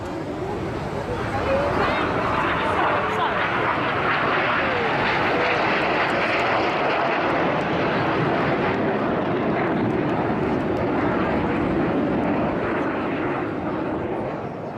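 Red Arrows jets performing at the Blackpool airshow, a loud continuous roar of jet engines sustained throughout, with a commentator's voice faintly beneath.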